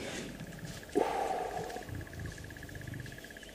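Lions courting on a safari drive, with a sudden deep snarling growl from one animal that lasts about a second over faint background hum and distant bird calls.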